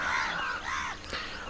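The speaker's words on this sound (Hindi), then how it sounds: "और ये 5:30 बजे का वक्त है और आप कौआ बहुत बोल रहा" Crows caw at dawn around 5:30, a few harsh drawn-out calls close together, fairly loud over a faint outdoor hum.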